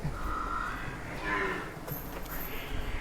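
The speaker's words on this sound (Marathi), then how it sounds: "हे जे एच एफ गाई आहे ना एच एफ गाई आहे" Holstein Friesian cows in a cattle shed near Kalyan give a few low, drawn-out moos that overlap one another, some nearer and some farther, over quiet background noise.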